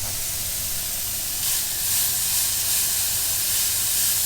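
A thick burger patty sizzles in a pan over medium heat, giving a steady, close, fairly loud hiss with no break and no talk.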